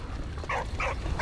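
A dog barks in the World War I video game Valiant Hearts, giving a couple of short, moderate barks over a steady background of game ambience.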